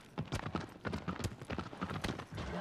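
Horse hooves clip-clop in a quick, steady rhythm in the video game Shadow of the Colossus, close and clear with no talk over them.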